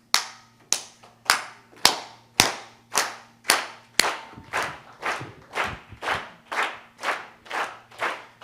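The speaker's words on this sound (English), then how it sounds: "Okay, I'm gonna need everybody to do a steady clap like this." An audience claps in a steady, slow unison rhythm at a mind-awakening talk, about fifteen sharp, evenly spaced claps in a row, each ringing briefly in the room, with a low hum behind them.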